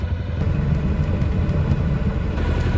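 A sailboat's engine runs steadily at sea during a solo transatlantic crossing, a continuous low, rumbling drone that stays even and fairly close, with no talking over it.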